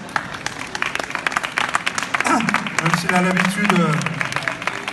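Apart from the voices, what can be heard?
audience applauding a guest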